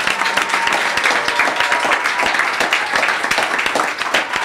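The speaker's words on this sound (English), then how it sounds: "let's give him a round of applause." An audience claps steadily for a musician being introduced, a dense, continuous patter of many hands that holds at an even level throughout with no voices on top.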